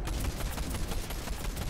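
Sustained rapid gunfire in a competitive shooting video game match, a dense continuous burst of shots filling the whole stretch at moderate level with no talk over it.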